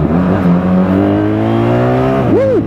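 A BMW R1300GS motorcycle accelerates hard on the throttle into a small wheelie, its engine note climbing through rising harmonics, then a quick rev sweep up and down near the end, close and loud.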